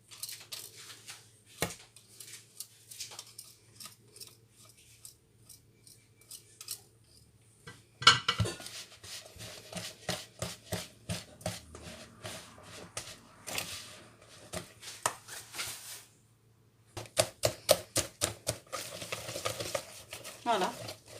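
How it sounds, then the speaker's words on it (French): Two batters for Brazilian rice muffins (bolo de arroz) are mixed together in a bowl. There is quiet scraping at first, then a run of rapid, close clinking utensil strokes in bursts, with a brief voice partway through. "je vais mélanger maintenant les 2 préparations ensemble"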